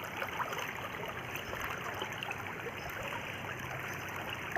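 Floodwater from a river rushing through a farm plot, a steady broad rushing and trickling wash that stays constant and fairly close throughout, with no voices.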